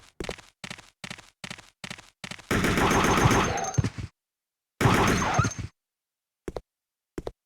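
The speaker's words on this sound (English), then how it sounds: "It does make for a great effect when you're firing your rifle and you can see the light from the gun" Rifle fire in Resident Evil Code: Veronica X: a run of evenly spaced single shots, then two longer loud sustained bursts separated by a short silence, ending with a couple of isolated shots, close and punchy.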